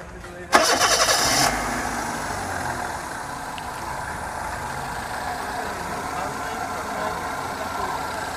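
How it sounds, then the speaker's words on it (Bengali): A used Toyota bB car engine cranks and catches with a loud burst, then settles into a steady, smooth idle that runs on without faltering. "আমরা একটু ইঞ্জিনটা স্টার্ট দিয়ে দেখি।"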